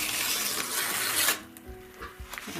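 Pull-tab packaging on a mail parcel being torn open by hand, a short burst of ripping and crinkling followed by a few quieter rustles and small clicks, close and fairly soft.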